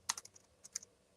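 A few quick keystrokes on a computer keyboard come in two brief bursts of close, crisp clicks, separated by a short pause, with no voice.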